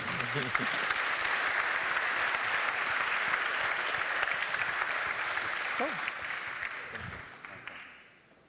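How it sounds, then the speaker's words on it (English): A conference crowd at a forum's closing session bursts into a big round of applause, sustained dense clapping that holds strong before thinning out and fading near the end, with a brief voice murmuring partway through. "Big round of applause."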